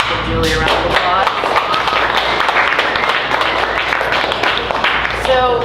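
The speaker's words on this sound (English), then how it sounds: "So let's give Julie a round of applause." A steady burst of audience clapping fills a bookstore event room, loud and continuous with many overlapping hand claps, a few voices and whoops rising briefly near the start and end.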